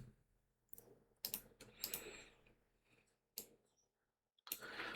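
Quiet bursts of computer keyboard typing as a command is entered, short clustered key clicks separated by near-silent gaps, close and without speech.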